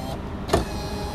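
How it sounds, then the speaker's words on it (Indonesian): A short electric whir from a 2013 Toyota Avanza's power window motor, close by, lasting only a moment against a quiet background. "Power window semua bagus."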